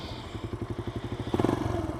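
Motorcycle engine thumping in a quick, regular pulse while riding, close and loud, with rattling clatter from the bike shaking; the beat grows louder and busier near the end.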